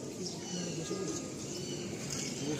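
A young high-flying pigeon at a loft coos in low, repeated notes, close by and fairly faint. The coos sit under a constant background murmur and speech-like noise.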